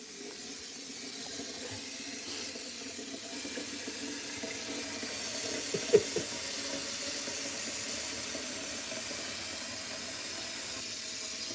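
Tap water runs steadily into a sink, a continuous soft hiss and splash that holds evenly with no talking over it.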